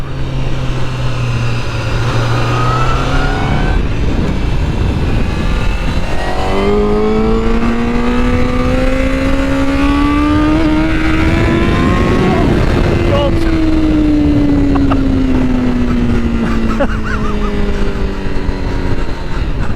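A 2021 Honda CBR1000RR-R Fireblade SP motorcycle engine revs loud and close, its tone climbing through gears to a peak, then easing down and pulling again, with steady wind rush throughout.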